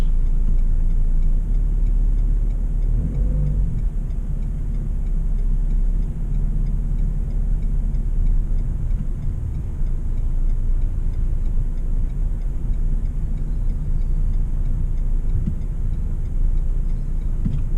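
A Renault Kadjar driving forward slowly during self-parking gives a steady low engine and road rumble inside the cabin, with a faint ticking throughout.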